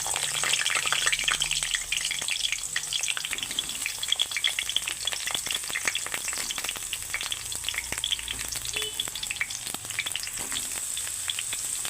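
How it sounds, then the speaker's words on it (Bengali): Eggplant slices fry in hot oil in a wok, giving a steady, dense sizzle and crackle that runs unbroken for the whole stretch, close and even in loudness, with no voices. "তেল গরম হয়ে গেছে এখন বেগুনগুলো ভেজে নিচ্ছি"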